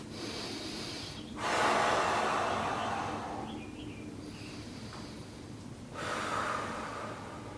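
Slow, audible breathing while holding a yoga warrior pose: two long, airy breaths with soft rushing exhales, close and fairly quiet, with a faint hiss between them.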